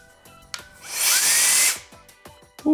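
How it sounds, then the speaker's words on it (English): A Wolfbox MF100 electric air duster at turbo speed lets out a short, loud, high-pitched whooshing whine with a rising tone, lasting under a second between quiet handling clicks. "Very loud. And here's turbo."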